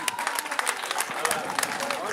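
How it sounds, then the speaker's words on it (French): An audience applauds a canton chief seated on a tribune at a village ceremony, with dense, uneven clapping at moderate volume and voices talking through it. "Je vous demande d'applaudir encore notre chef de canton."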